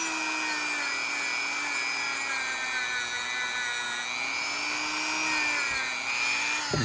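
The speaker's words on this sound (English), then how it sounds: "Let me use my Dremel tool" A Dremel rotary tool runs steadily as it cleans up a Craftsman tool, giving off a continuous high whine. The grinding and buffing noise holds at a constant level throughout, with no talking.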